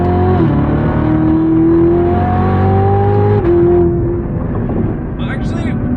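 A 2019 Chevrolet Corvette ZR1 pulls hard in second gear, its loud engine note climbing steadily close up, then dipping briefly at a shift before resuming, with a voice talking over it.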